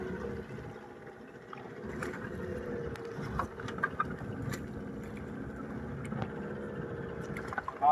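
A fishing boat on the open sea at night, out for mackerel off Malvan-Dandi, creeps slowly backward while its net is paid out; a low, steady engine hum and water wash run faintly throughout, with occasional small knocks.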